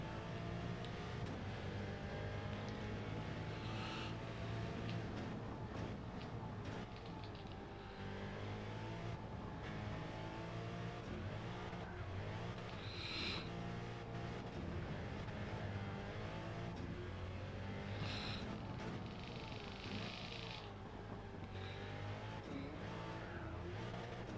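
A race car engine in a racing video game roars continuously, revving up and down through gear changes, with occasional tire squeal, loud and steady throughout.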